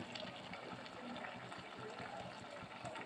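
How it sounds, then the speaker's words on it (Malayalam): Coconut milk pours into a pot of olan curry, making a soft continuous trickle and splash of liquid. The pour is faint and steady and lasts a few seconds, with no talk. "നമുക്ക് തേങ്ങാപ്പാൽ ചേർത്ത് കൊടുക്കാം"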